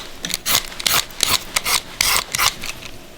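A green mango is peeled in a series of close, crisp scraping strokes, about a dozen short rasping bursts in an uneven rhythm, with no talk.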